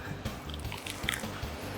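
A big, crunchy bite of a spicy-sweet, salty snack, with a crisp crunch followed by several rhythmic, close-up chewing crunches.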